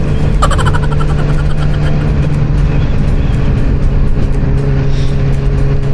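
Busy Friday road traffic rumbles constantly around a motorcycle rider, with a loud, dense wash of engine noise and a steady low hum from many vehicles.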